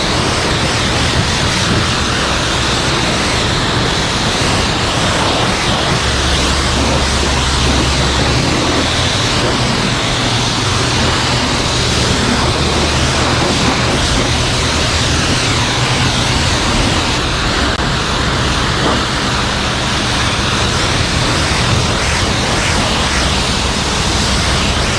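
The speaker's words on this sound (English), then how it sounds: "All right, let's rinse her off." A Lexus car is rinsed with a water spray, producing a constant loud hiss of spraying water. It stays unbroken and even throughout.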